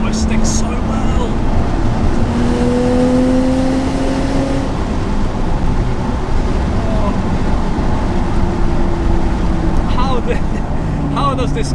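A 910 bhp big-turbo R34 Skyline's engine holds a steady, high-revving drone as it speeds around corners, its pitch shifting slightly through turns, with voices talking over it.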